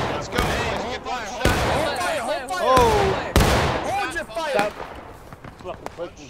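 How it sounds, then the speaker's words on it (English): Rifle volley gunfire from a line battle in the War of Rights video game, several loud sharp cracks spaced about a second apart, mixed with voices and whistling shouts. "Do a volley and then pull back."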